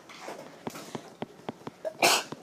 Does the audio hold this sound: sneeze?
yes